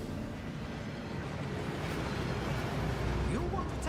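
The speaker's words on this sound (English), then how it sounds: "That waterfall washes away all enchantments." A waterfall in the Hogwarts Legacy video game gives a steady, full rushing roar that holds at a constant loudness and grows slightly stronger near the end.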